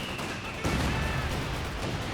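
A Calliope rocket artillery barrage lands at close range in Company of Heroes 2: an abrupt crashing impact breaks through a steady battlefield din, then rumbles on as a dense, noisy wash.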